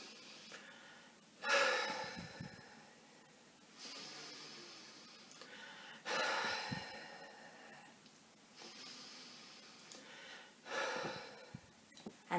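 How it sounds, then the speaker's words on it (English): Deep nasal breathing during a children's breathing exercise, with about five slow cycles of sharp inhaled sniffs followed by longer soft hissing exhales, close and quiet with no talking. "I should be able to hear you breathing in through your nose for 2"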